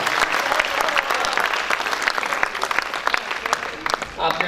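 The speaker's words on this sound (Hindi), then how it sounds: "आपने ताली बजाई और उत्साह से बजाई" An audience applauds warmly at a Hindi poetry recital (kavi sammelan) held at THDC India Ltd., a steady, dense burst of clapping from a nearby crowd lasting the whole stretch.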